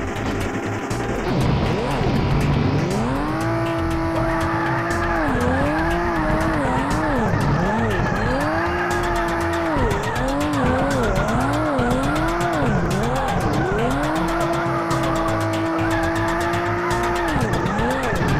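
A car drifts in the racing game Drift Runner with a steady engine roar and long wavering tire squeals that rise and fall as it slides through turns, loud and continuous.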